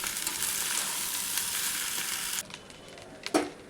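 Rice gently mixed into rajma in a pan gives a soft, steady sizzle with light stirring scrapes, then drops quieter with a few isolated spoon clinks and scrapes near the end.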